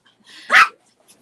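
A single sharp dog bark rings out up close, preceded by a faint whine, in an otherwise quiet indoor setting.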